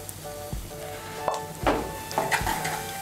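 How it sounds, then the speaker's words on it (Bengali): Banana flower filling cooking in a pan with sugar and garam masala, a soft sizzle broken by several scraping strokes of a spoon stirring against the pan. "চিনি আর গরম মশলার গুঁড়োটা ভালো করে মিশিয়ে নিয়ে আর একটু আমি নাড়াচাড়া করে নেব।"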